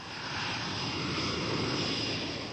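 A SEPECAT Jaguar jet flying very low and fast: a steady, broadband roaring engine rush, loud and close throughout without a break, with no talking.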